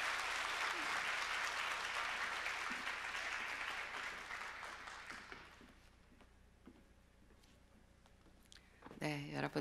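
A church congregation at a special dawn revival service claps warmly for several seconds, the applause fading out gradually into quiet room tone before a voice begins speaking at the end.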